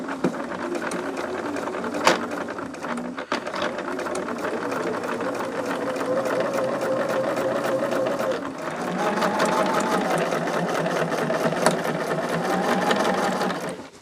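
A sewing machine stitches a Wilma pouch in a steady, continuous mechanical whir with a dense rapid needle rhythm, close and loud throughout, shifting slightly in pace partway as it turns a corner.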